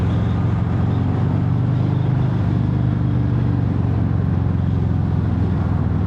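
A Harley-Davidson FXFBS 114 Fat Bob motorcycle riding in third gear on a track, giving a steady, low engine drone with constant rumble and wind, close and continuous without speech.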